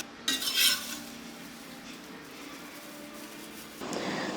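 Flattened rice (poha) snack being stirred in a pan, a short burst of scraping and rustling near the start, then a quieter steady rustle with a brief swell at the end.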